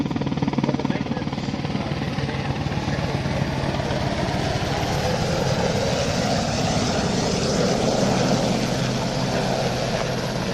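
A helicopter with yellow-tipped rotor blades banks overhead, producing a loud, continuous rotor and engine roar that holds steady throughout, with faint talk beneath.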